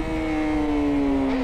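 A 2020 Honda CBR1000RR-R Fireblade engine in first gear at low RPM holds a steady, loud whirring drone with a smooth, slowly shifting pitch and no talking over it.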